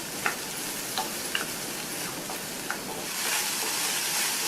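Onion, ginger and garlic sauté in a pan with a steady, moderate sizzle and a few light utensil ticks; the hiss swells slightly louder toward the end.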